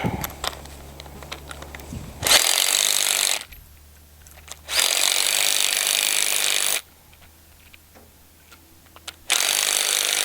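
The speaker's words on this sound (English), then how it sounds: "we tighten her down with our impact wrench" An impact wrench tightens a clamp on a hopyard trellis under construction, firing three loud, sustained rattling bursts separated by pauses filled with quieter outdoor noise.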